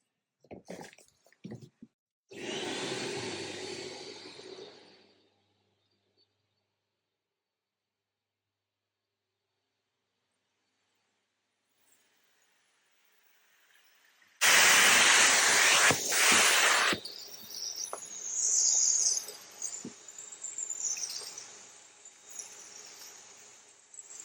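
Mattress cleaning extraction machine running in bursts: a loud hissing suction roar for a couple of seconds, long silence, then a sustained whooshing, whining extraction pass that fluctuates as it moves across the fabric.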